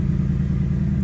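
Idling car engine in exhaust mode at a car meet, a steady, loud low rumble with a deep throbbing exhaust note held throughout, with no voices over it.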